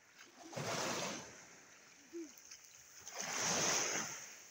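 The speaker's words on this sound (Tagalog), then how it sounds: "kusog kayong balod diri ta among gi pangaliguan ni Adam" Strong waves washing in where people are bathing in the sea, two long surging rushes of surf with water splashing, loud and close, separated by a quieter stretch.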